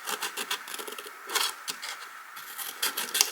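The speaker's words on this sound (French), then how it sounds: "Je vais découper ce petit rectangle ici, en biaisant un peu." Scissors snip a small rectangle out of paper for a surprise pouch, giving a run of short, crisp cutting and rasping strokes close by with no talk.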